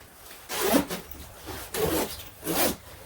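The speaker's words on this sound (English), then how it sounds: "I'll zip it all the way down to keep nice and warm." A winter jacket zipper is drawn in three quick rasping strokes, close and fairly soft, with short gaps between pulls.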